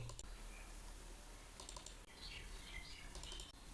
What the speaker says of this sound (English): type cd backslash and click enter to go to the root directory of the current drive.